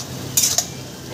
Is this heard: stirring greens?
yes